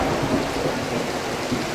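Heavy tropical rain pours down in a steady dense roar during an outdoor funeral gathering, with low thunder rumbling underneath throughout and no voices.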